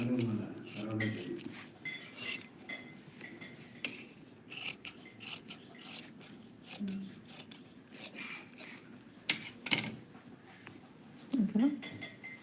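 Scissors snip through blouse fabric in a series of short crisp cuts with small metallic clicks, heard close while someone talks over much of the cutting.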